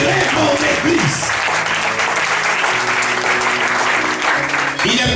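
Church congregation applauding and cheering loudly and continuously, a dense crowd of clapping with voices calling out and a speaker's voice rising through the noise.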